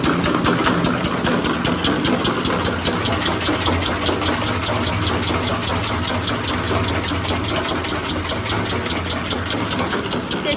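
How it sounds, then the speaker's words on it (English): Circulation pump on an LH300L perfume making machine, a loud steady mechanical hum with a fast regular ticking pulse, continuous and close, no talk. "Turn on the pump switch."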